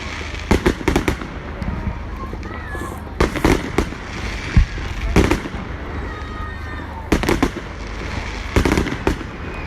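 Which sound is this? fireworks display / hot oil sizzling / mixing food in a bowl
fireworks display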